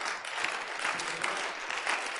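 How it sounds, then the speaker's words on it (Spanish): A church congregation applauds during a sermon, a full, even wash of many hands clapping that holds steady from start to finish. "Dale un aplauso al Señor de alabanza."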